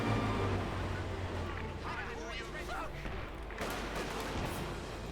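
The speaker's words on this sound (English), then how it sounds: "But a bit of artillery fire there versus Jesulin." Artillery fire rumbles in a Company of Heroes 2 match between German Wehrmacht and US forces, with dense booming and clattering battle noise and a burst of impacts partway through, heard beneath a commentator talking.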